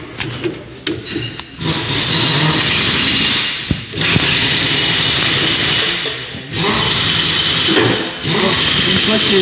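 A wheel is clamped on a wheel balancer in a tyre shop, its motor whirring loudly in long sustained runs broken by brief pauses.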